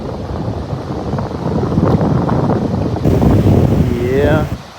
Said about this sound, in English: I'll start to hear the waves picking up a little bit as I get closer.